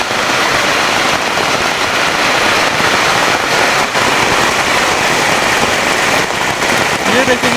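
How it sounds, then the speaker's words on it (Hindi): Heavy monsoon downpour in the mountains, a dense, steady hiss of rain drumming on surfaces around old village houses, continuous and loud throughout with no break. "तो दोस्तों देखेंगे पहाड़ों का मौसम और पहाड़ों की बारिश।"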